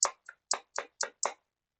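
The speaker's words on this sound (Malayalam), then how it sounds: "ഇപ്പൊ ക്ലാപ്പ് ഒക്കെ കൊട്ടി" Six sharp hand claps ring out close and crisp at a small supermarket opening, spaced roughly a quarter second apart with silence between and after.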